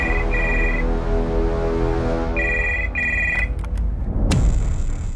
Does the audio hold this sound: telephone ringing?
yes